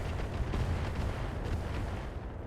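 Artillery fire in RogueTech, the BattleTech mod video game, comes as a dense, continuous barrage of heavy booming blasts that overlap into a loud, rumbling wall of sound.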